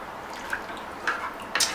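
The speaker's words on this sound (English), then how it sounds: "what I'm going to do is add in the rest of the water" Water is poured into a pot of simmering dal made with tomatoes, a soft liquid trickle broken by a few faint splashy drips, close and quiet.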